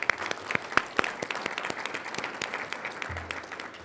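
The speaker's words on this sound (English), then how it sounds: "Can we please get a round of applause" A room at a university Board of Trustees meeting applauds a grant committee, with close, crisp individual claps over a broader crowd patter that thins out toward the end.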